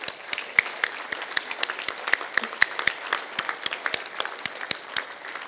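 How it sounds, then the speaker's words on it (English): Graduation ceremony audience at Victoria University applauding families and friends, a sparse but steady patter of distinct claps, fairly close and moderate in level, no talk. "I think you all need to give them a round of applause for the support they've given you"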